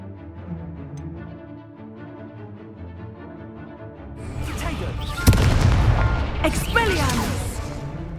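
A blasting-curse explosion in Hogwarts Legacy, a loud sharp boom bursting out of dense combat noise during a spell duel, with a voice and further crashes around it.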